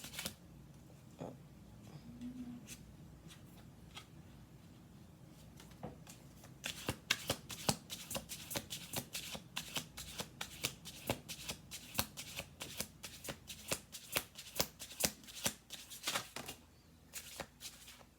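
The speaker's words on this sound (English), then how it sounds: "Okay, one more shuffle." Cards being shuffled over and over, a steady run of quick riffling bursts that grows busier and louder after the first few seconds.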